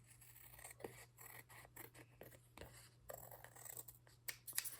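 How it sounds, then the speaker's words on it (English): Scissors snip and trim paper for a handmade junk journal, a series of soft, close cuts in uneven rhythm, with quiet talk over some of them. "so I'm gonna take my scissors, or you can use your trimmer for sure"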